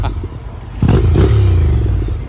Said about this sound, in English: give her a couple revs.